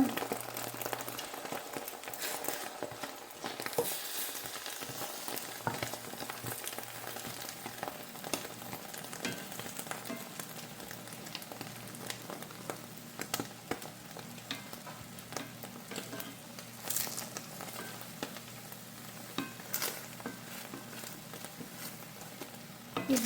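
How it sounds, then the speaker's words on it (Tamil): Continuous crackling sizzle of rice noodles frying in a hot pan, with scattered pops and spatters, fairly loud and steady for the whole stretch. "ஆம்லெட் பொரிக்கிற மாதிரி பொரிங்க"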